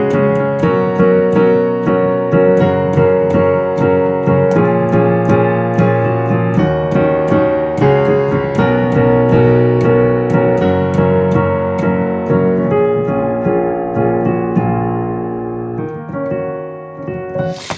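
Piano plays the chords of a song in a steady, evenly repeated pulse, full sustained chords with bright repeated upper notes, loud and close with no voices, easing off near the end.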